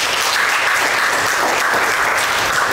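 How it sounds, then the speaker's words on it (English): A large audience at a live stage show applauds loudly and steadily, a dense continuous wash of clapping with no talk over it. "give GTP a big round of applause"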